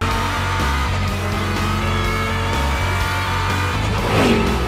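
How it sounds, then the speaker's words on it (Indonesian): A race car drives with a steady loud engine drone and a brief squealing sweep near the end, under a constant noisy backdrop. "Widih-widih, ada mobil balap."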